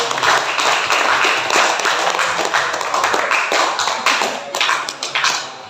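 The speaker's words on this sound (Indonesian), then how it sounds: "Tepuk tangan buat teman kita." A classroom of students claps for a classmate, a dense, steady patter of many hands applauding together close by for several seconds.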